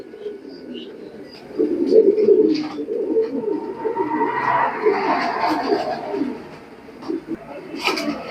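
A pair of racing pigeons coo in soft, throaty, rolling bursts close by, repeating on and off over a low background murmur.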